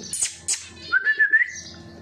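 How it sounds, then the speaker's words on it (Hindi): Pigeon in a home loft giving a high, thin call: a short rising-and-falling whistled phrase of four or five close pulses, preceded by a couple of soft chirps and some faint rustling nearby. "ये जनाब आज शोर कर रहे हैं पी पी"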